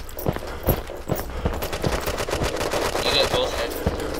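Rapid bursts of video game gunfire in Red Crucible Firestorm, machine-gun style shots crackling in quick irregular volleys at close range, with other game noises mixed in underneath.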